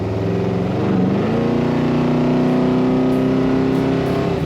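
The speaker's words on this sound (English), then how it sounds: "Punch it down and you get some acceleration too." A 1964 Chevrolet Impala SS accelerates with a steady, loud engine drone from inside the car, its pitch climbing smoothly as the engine pulls, with no talking.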